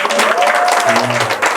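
Church youth retreat audience clapping for students moving up to new schools, a dense steady patter of applause mixed with voices and a sustained tone over it.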